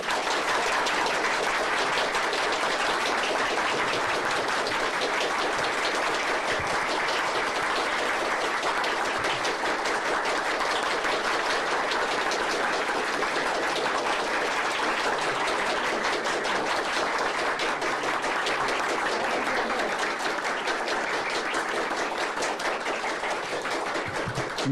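Standing applause in the Brazilian Senate, dense and unbroken clapping from a large crowd that carries on loudly for the full length, with no speech over it.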